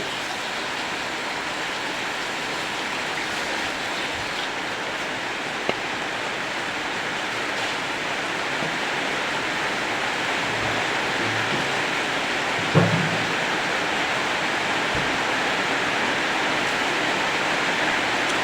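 Steady rain falls outdoors in an even, close wash of hiss, with a couple of faint knocks and no talk.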